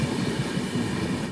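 The Konark Express climbs through the monsoon-soaked hills between Mumbai and Pune near Lonavala, a loud, continuous low rumble of wheels on rails heard from on board that cuts off abruptly at the end.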